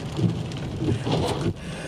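Steady rain falls outdoors, a dense close hiss with a low rumbling undertone, continuous and fairly loud with no voices.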